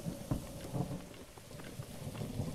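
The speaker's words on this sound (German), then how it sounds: "Och nein, jetzt wieder ein Unwetter." In Zelda: Breath of the Wild, a thunderstorm brings steady rain hissing over everything, with low rumbling bursts of thunder rolling through at a moderate level.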